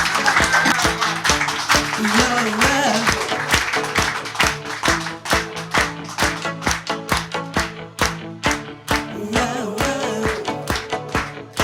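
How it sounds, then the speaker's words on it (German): An evening stage audience claps in steady rhythm along with music, loud, regular beats of many hands that carry on for several seconds over a sustained accompaniment. "Applaus."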